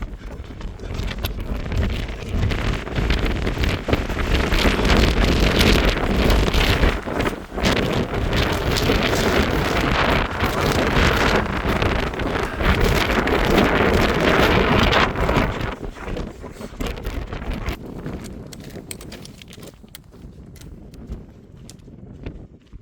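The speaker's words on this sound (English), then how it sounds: "windy!" Strong wind on a mountain roars and buffets the microphone in heavy, continuous gusts during stormy weather, easing off toward the end.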